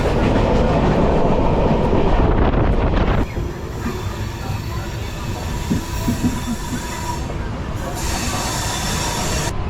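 Passenger train on the Howrah to Digha line running steadily, with loud, continuous rumbling wheel and rail noise throughout, somewhat louder in the first few seconds, and no talk.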